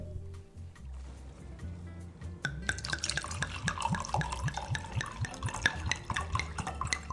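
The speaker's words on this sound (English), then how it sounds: "I'm just about to pour a glass." A drink is poured into a glass close up, starting with a few quiet drips and clinks before a gurgling, bubbling stream of liquid flows steadily for several seconds.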